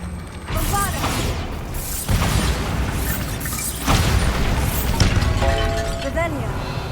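Bombarda blasting spell in Hogwarts Legacy: a series of dense cracking booms with rattling debris and mechanical clatter, loud and close, repeating every couple of seconds, with game voices partly over them.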